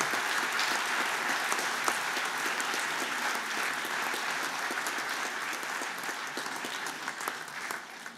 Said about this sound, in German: ich bitte um Ihren Applaus für unseren Preisträger